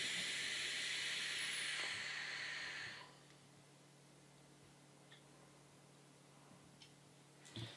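A long hissing rush as air is drawn through an Aspire Atlantis clearomizer with the airflow fully open on its first hit, lasting about three seconds, then quiet with a few faint clicks.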